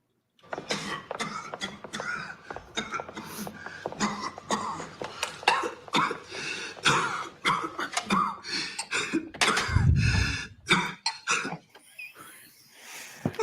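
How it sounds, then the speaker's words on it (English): A person coughs repeatedly in harsh, rasping fits, close and loud, with brief pauses and heavy breaths between bursts, a hospital patient in a Star Trek radio drama. "A patient starts coughing."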